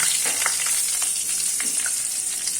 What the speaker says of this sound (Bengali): তেল গরম হয়ে গেছে এর মধ্যে একটু কালো জিরে অ্যাড করে দেবো